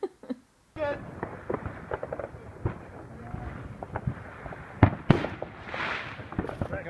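New Year's fireworks go off outdoors in a series of irregular pops, cracks and sharper bangs, some near and some farther off, with faint voices now and then.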